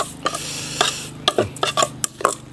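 Wasp larvae koi salad being mixed with lime and herbs, producing a series of irregular close clinks and scrapes of a utensil against a bowl with brief pauses between strokes, with no one talking.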